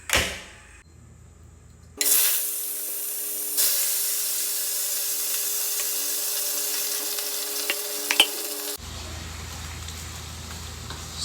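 Beef marinated in lemon and soy sauce hits a hot pan and sizzles loudly and steadily for several seconds, with a few utensil knocks, before the frying noise cuts off abruptly.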